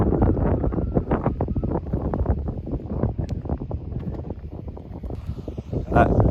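Wind gusts across an open Lake Michigan bluff golf course at Arcadia Bluffs, a steady rushing buffet against the microphone with rustling throughout and a few sharper knocks.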